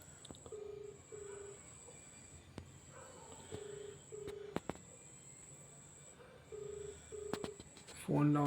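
A phone call ringing out while someone waits for an answer: repeated short ringback tone bursts recur through the clip in a steady on-off rhythm, with a faint background hum and some brief clicks.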